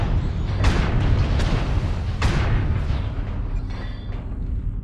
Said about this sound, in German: Airstrike activated.